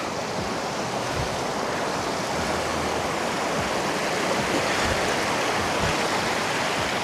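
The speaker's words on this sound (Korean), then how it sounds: "물은 여기서 콸콸콸콸 내려옵니다" Mountain stream water gushing steadily down a valley in a national park among snowy peaks, a dense continuous rush close by with no pauses or voices.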